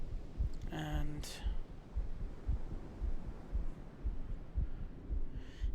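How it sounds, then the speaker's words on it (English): A low, muffled heartbeat pulses steadily in the Myst III Exile video game, soft thumps in a regular rhythm over a dim ambient hum, with a brief tonal chime early on. "Why am I hearing a heartbeat there?"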